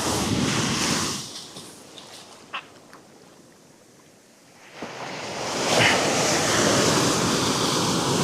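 Surf washes onto a Suffolk shingle beach at high tide, a loud rushing swash that eases to a quieter lull midway before surging back in full, with wind buffeting the microphone.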